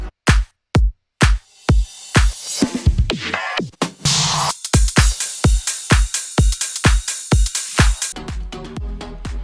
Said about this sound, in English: Together, the drums sound like this.